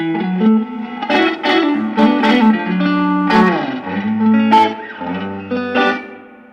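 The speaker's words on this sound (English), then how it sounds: "This has a reverb I've put in that just gives it a nice bit of ambience." An electric guitar played through a reverb pedal rings out chords and single notes. Each one trails off into a spacious ambient wash, heard alone in a short phrase with distinct attacks.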